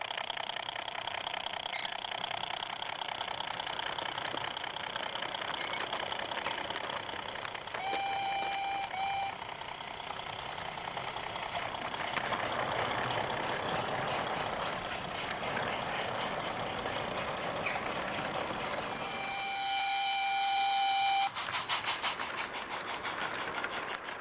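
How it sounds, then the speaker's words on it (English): Model railway freight trains, a sand quarry train and a copper ore train, pass each other at Peckforton station on a light railway layout: a steady mechanical whir and rumble, with two brief high tones. "At Pekverton, the down sand quarry train arrives, as does the up copper ore train. They pass each other hurriedly."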